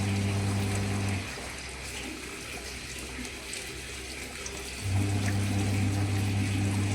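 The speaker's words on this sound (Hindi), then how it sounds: "पहले डालूंगी पेड़ों में पानी" Water runs steadily from a hose or tap onto plants alongside a low pump hum, which stops partway through and then starts again; no talking.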